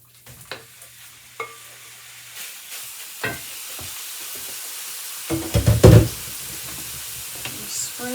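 Ground pork filling for Korean steamed pork buns (jjinppang-mandu) sizzles steadily in a pan while a utensil stirs and knocks against it in a few louder scraping bursts, close up and with no talking.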